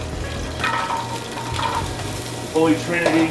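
Celery, carrot and onion sizzle and crackle in hot chorizo grease, a steady frying hiss with bursts of stirring, while someone talks over it.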